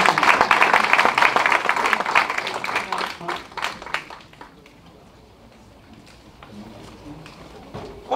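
A church congregation breaks into applause, a dense burst of clapping that stays loud for about four seconds, then thins out and fades into scattered claps and murmuring voices.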